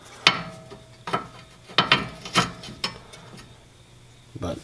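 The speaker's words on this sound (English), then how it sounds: "it's hard to get the ratchet in there" A ratchet wrench loosens a rear brake caliper bolt on a 2013-2015 Nissan Altima, giving short bursts of sharp clicking at an irregular pace with brief pauses between strokes, close and alone.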